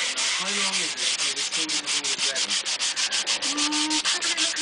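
A wooden guitar neck, a custom Telecaster neck being reshaped to a V profile, is sanded with 180-grit sandpaper in quick, even back-and-forth strokes, close and rhythmic, with no talk.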